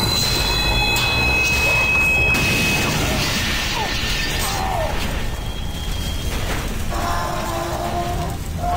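A monorail train in Doom 3 speeds along its track with a loud continuous rushing roar, metallic screeching and rattling clanks throughout.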